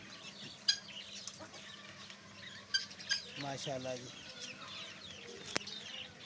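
Hens cluck softly on a farm, with about nine or ten birds giving short, scattered clucks and calls at a quiet, close range while someone speaks briefly.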